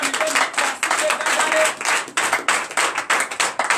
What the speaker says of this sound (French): Donc je vous demande d'applaudir très fort.